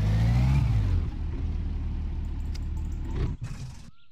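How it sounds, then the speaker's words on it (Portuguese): A worn old car in My Summer Car cranks and starts with a low rumble, then revs with a droning, wavering whine that cuts off abruptly near the end. "Aí você equipando a chave, você vai ligar o carro."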